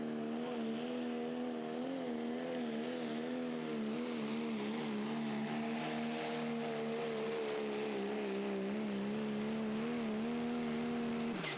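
Chapter 11, a Pro Stock diesel pulling truck, making a pass on the track, its engine droning steadily with a strong humming tone that wavers in pitch as it strains under load, loud and sustained.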